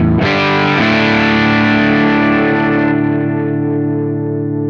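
A DIY high-voltage tube overdrive pedal with tone up and bass fully down, sounding a single sustained distorted guitar chord that rings loud and bright, then slowly decays over a few seconds.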